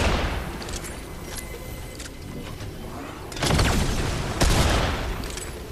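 Gunfire and explosive bursts from a video game firefight, a steady crackle of shots with two louder, heavier volleys near the end, close and fairly loud with no talk over it.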